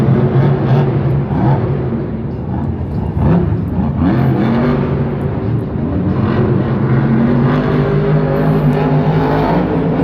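A Monster Jam monster truck at an arena event in Lyon, France, roars loudly and continuously, its engine revving in throaty swells with a steady rumbling undertone and no talk.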